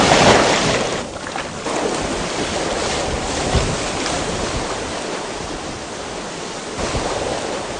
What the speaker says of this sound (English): and a little unavoidable splashing.